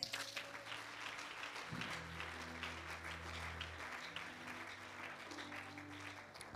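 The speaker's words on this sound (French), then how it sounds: "Acclame pour le Seigneur." A church congregation applauds during a French-language worship service, a steady, even wash of clapping heard quietly and at a distance.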